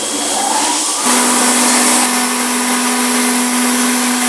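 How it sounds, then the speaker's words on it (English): Mixing tank recirculating zinc citrate slurry, a steady loud mechanical whir that steps up in intensity after about a second, then holds as a constant hum with a sustained tonal drone. "Now that we're mixing well in the tank, we're going to start our recirculation."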